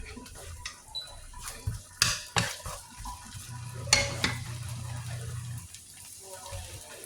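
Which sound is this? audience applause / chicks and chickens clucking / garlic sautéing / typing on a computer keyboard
garlic sautéing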